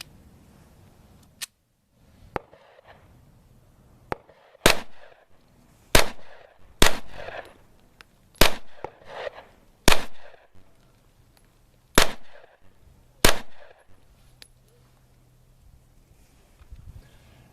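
A Luger P08 pistol fires a magazine at a zombie target on a shooting range: roughly eight to ten sharp, loud reports at uneven spacing, with brief quiet gaps between shots and no talking.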